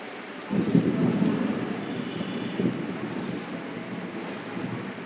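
Rain falls steadily on a street while low thunder rumbles, swelling early, rolling on for a few seconds, then fading back into the even hiss of the downpour.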